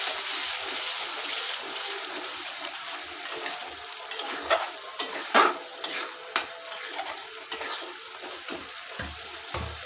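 Yogurt being stirred into a catla fish head frying in a pan, with a steady sizzle and repeated scraping stir strokes that grow busier midway, close and alone.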